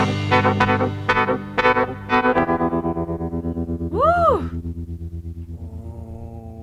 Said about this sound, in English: they had a distorted bass in there